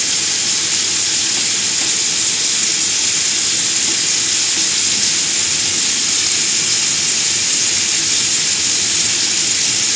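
Roulades fry in a pan with a loud, continuous sizzle. The hissing stays steady and close, with no voices over it.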